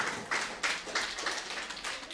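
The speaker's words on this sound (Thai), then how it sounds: "ปรบมือให้กับพระเจ้าของเราด้วยกัน" A church congregation claps their hands together in praise, a dense, steady patter of many palms close by, with a few louder bursts rising and falling over about two seconds.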